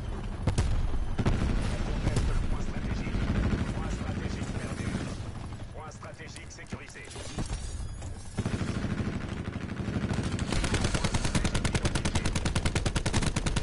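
Dense gunfire in Call of Duty Black Ops 4 multiplayer, with rapid bursts of automatic weapon shots and booms running almost continuously, loud and close, over a talking player.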